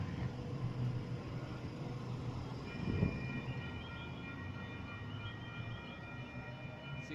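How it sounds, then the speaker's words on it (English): A Sydney Waratah electric train, set A18, pulls away from platform 1 at Mulgrave station: a steady, fairly distant rail rumble and hum with a single dull clunk midway and a faint whine building toward the end. "Waratah set A18, now departing from platform number 1,"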